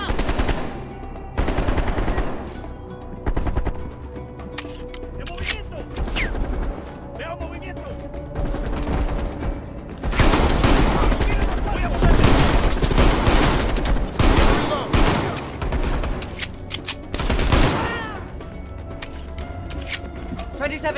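Rapid gunfire bursts from Call of Duty: Black Ops Cold War crackle loudly and repeatedly across the scene, dense volleys mixed with game effects and voices talking over the action.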